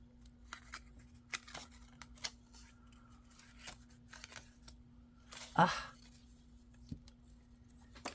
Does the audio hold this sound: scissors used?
yes